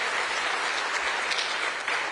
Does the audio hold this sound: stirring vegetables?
no